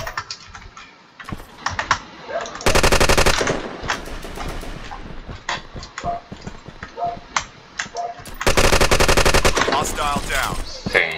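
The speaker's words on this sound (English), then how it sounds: "Oh, he is shooting at me." Gunfire in the Metro video game: two loud sustained bursts of rapid automatic fire amid quieter clicks and shots, with a voice talking faintly in between.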